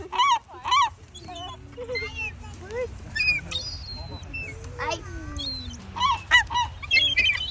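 Hungry seagulls being fed at the beach cry out in a lively flock, with repeated sharp calls and squawks near and far, while people talk and laugh under and between the cries.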